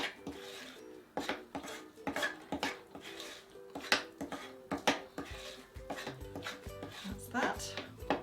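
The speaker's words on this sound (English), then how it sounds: "Give it a stir round till the flour has all gone in." A spoon stirs flour into raspberry muffin batter in a bowl, giving repeated scraping and clinking strokes in an uneven rhythm, with a person talking between them.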